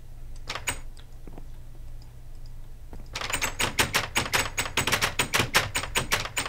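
Wooden doors open and close in a video game, a few scattered soft clicks giving way to a fast run of sharp, evenly spaced wooden clacks, fairly faint over a low background hum.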